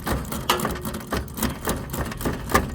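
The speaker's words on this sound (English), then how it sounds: "just quickly close it with the ratcheting Allen wrench" A ratcheting Allen service wrench clicks in quick repeated bursts while closing a refrigerant service valve on a mobile home HVAC unit, with close mechanical ratchet ticks and no talking.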